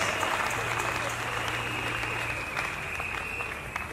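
A church congregation applauding to acclaim the word of God during a Sunday sermon, steady sustained clapping across the whole stretch with a faint background hum and some murmured voices.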